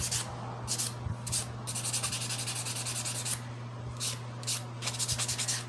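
Steady rhythmic sanding by hand on a mini rolling pin, a rough scratchy rubbing in repeated strokes with short pauses, close and moderately loud, no talking.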